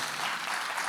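A church congregation at a Sunday service claps in welcome, a brief burst of dense, steady applause from many hands.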